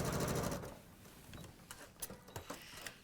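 A sewing machine stitches lines briefly at the start, a quick buzzing run that stops, followed by quiet clicks and handling noises.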